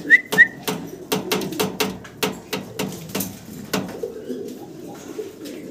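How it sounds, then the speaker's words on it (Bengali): A pair of Magpie Danish pigeons coo in a steady run of close, rhythmic pulses, loud and clear, with a couple of short high whistles at the very start. "খুব সুন্দর এক জোড়া ম্যাকপাই ড্যানিশ কবুতর আপনারা দেখতেছেন।"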